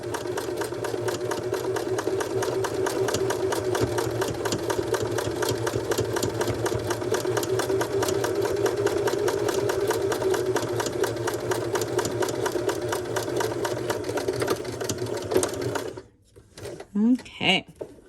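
Sewing machine stitching bias tape in the ditch, a continuous fast rhythmic whir running steadily for most of the clip, then stopping abruptly, followed by a few brief small handling noises.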